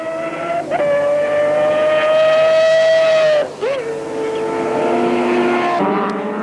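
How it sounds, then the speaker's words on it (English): An Audi touring car at full race speed in a 1993 Wesbank Modifieds round at Goldfields, heard onboard as a loud, high engine whine that rises and drops sharply with each gear change. "We're in the car with Aberdeen, and he's really trying to muscle his way through with the Audi right on Van der Merwe's tail"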